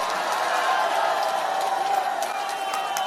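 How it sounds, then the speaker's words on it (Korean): Crowd at a Korean presidential campaign rally in Iksan applauding and cheering, a dense continuous wash of clapping and voices lasting about three seconds at steady loudness. "박수로 환영해 주십시오."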